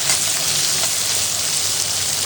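Onions sizzle in hot oil inside an electric rice cooker, a loud steady crackling hiss close up with no pauses.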